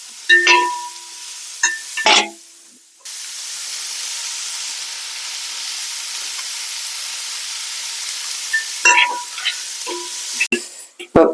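Sliced onions sauté in a pan for a village-style chicken curry, giving an even close hiss of frying, bracketed by sharp metallic clanks and scraping stirs at the start and end.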